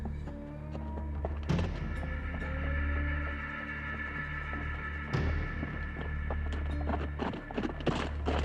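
Wild mustang horses driven over rough mountain terrain, their hooves clopping and thudding in a busy, irregular rhythm, with sharp louder impacts standing out over a steady low rumble.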